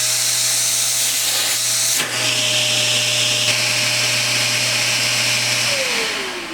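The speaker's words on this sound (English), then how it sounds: "find the on and off button on your vacuum, turn it on" A household vacuum cleaner motor runs with a loud, steady drone close by, holding constant for several seconds before its pitch slides downward near the end.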